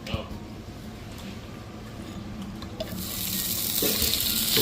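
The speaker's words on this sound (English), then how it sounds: "Wow, it's sizzling." Freshly made chicken in a clay pot sizzles at a restaurant table in Istanbul's old town, a hiss that swells loudly in the last seconds over ambient dining noise and talk.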